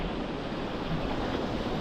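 Ocean waves and wind rush past during a sunset paddleboard downwinder, a loud, continuous roar of surf and gusts buffeting the microphone with no voices.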